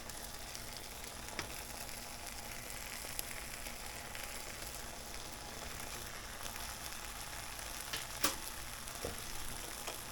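Faint, steady sizzle of battered egg frying in a pan, a low crackling hiss with a few light ticks and pops and no talking.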